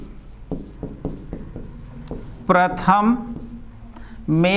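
Chalk or pen strokes on a board during a Hindi-language class, a series of short scratchy taps in a steady rhythm, followed by someone speaking.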